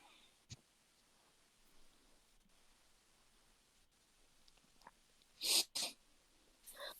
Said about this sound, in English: he's gonna go listen to me sneeze